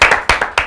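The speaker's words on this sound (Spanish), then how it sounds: "solo por eso ya merece un aplauso" Four or five sharp, evenly spaced hand claps ring out close and loud, each decaying quickly, standing alone without talk, offered as applause during a Spanish political-science master class.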